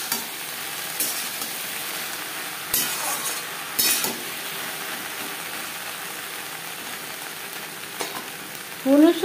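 Whole cumin seeds frying in hot refined oil with okra, a steady soft sizzle running throughout, broken by a few brief clatters of a spoon or pan and a sharper burst near the end.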